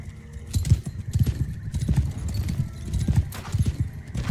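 Cavalry horses in the medieval battle game Mount & Blade 2: Bannerlord, a busy rhythmic clatter of many hooves galloping close by, with an occasional neigh mixed into the battle noise.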